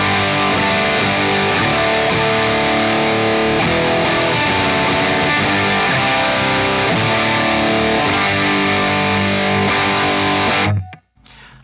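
An electric guitar plays through a Line 6 Pod Express on a Ben Adrian Cartographer amp model, giving a loud, saturated, sustained tone with ringing chords and single notes, then it is cut off sharply at the end.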